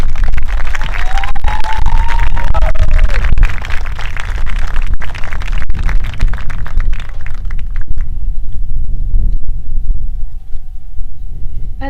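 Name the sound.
audience applause for homecoming candidates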